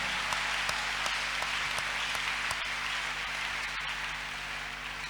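A church congregation claps their hands during a worship service. The claps are faint and fairly steady, with a low hum underneath and no voices.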